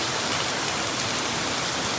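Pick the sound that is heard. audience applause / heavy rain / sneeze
heavy rain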